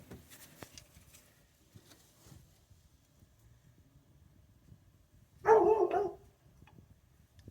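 One short burst of dog barking rises from an otherwise quiet room, with faint rustles and taps before and after.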